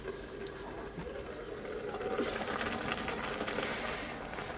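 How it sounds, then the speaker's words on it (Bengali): Jute leaves boil in a covered pot on a home stove, a soft steady bubbling simmer heard from close by, fairly quiet and gently rising, with faint talk in the background. "শাকগুলো কিছুক্ষণ সিদ্ধ হতে হবে"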